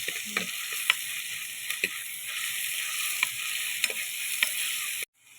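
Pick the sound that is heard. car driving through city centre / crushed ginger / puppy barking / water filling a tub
crushed ginger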